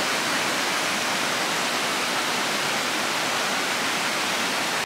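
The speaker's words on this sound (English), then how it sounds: "River crossing." River rushing at a trail crossing on the Appalachian Trail, a loud, close, unbroken roar of flowing water with no voices over it.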